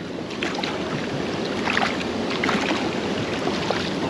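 A boat ride on the river at Panimur waterfall in Dima Hasao, Assam, a steady low engine drone and rushing water with wind buffeting, close and continuous, with no talking.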